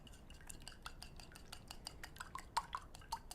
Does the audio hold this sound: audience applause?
no